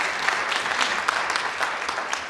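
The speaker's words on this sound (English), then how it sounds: "Give her a round of applause." Steady round of applause from an audience at a Palomar College keynote, dense clapping at an even level throughout without any break.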